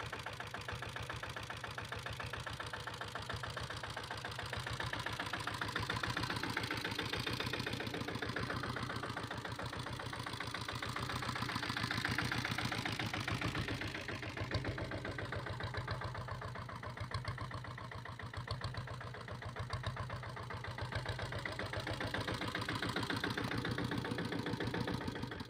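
A 2000-model Taurus diesel motorbike engine idles steadily after a single kick start, a continuous close, even chugging throb with a faint knocking edge and no talk.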